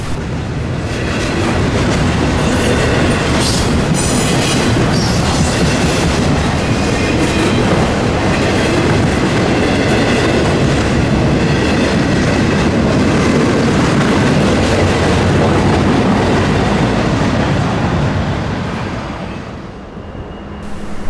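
Norfolk Southern freight train 201 with a Wabash heritage locomotive trailing third rolls past close by, a loud continuous roar of wheels with clickety-clack over rail joints, fading at the very end.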